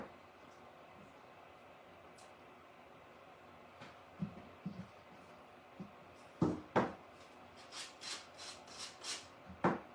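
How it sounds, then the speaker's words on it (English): Sandpaper on a small handheld sanding tool rubs over a crafted bunny shelf sitter decorated with decoupaged napkins, giving soft intermittent rasping strokes that grow louder and more rhythmic toward the end, with no talking. "I am just going to use a piece of sandpaper on my little sanding tool"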